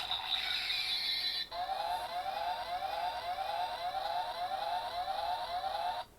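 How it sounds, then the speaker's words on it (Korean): An electronic combination-complete siren from a Bandai DX Dekaranger Robo toy wails in a rapid, repeating rising sweep, loud and close, with a steady high tone beneath and no voices. "이런 식으로 합체 완료 사이렌이 또 울려줍니다"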